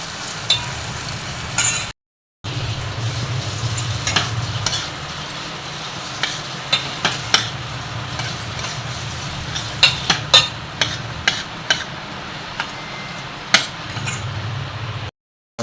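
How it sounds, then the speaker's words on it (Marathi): Curry leaves, garlic, chilli and mustard seeds sizzle in hot oil for tempering, a steady frying hiss broken by sharp clinks and scrapes of a stirring spoon against the pan, close up. "तडका मात कढीपत्ता लसूण आनी चिली आनी सांसव घालता"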